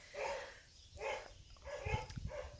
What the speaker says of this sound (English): the birds are driving the dogs crazy